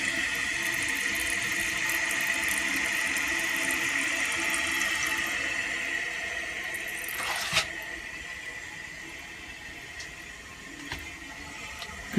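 An American Standard Cadet 3 toilet tank fills with water in a steady, close hiss and rush that holds for several seconds, then tapers near the end with a brief squeak.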